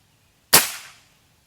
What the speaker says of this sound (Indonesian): Lanjut tembakan ke-10 ya, tembakan yang terakhir